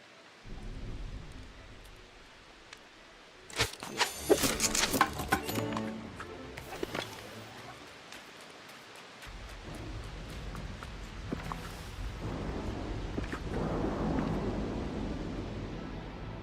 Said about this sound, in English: Oh, thunderbolts and lightning, man. Why is it raining?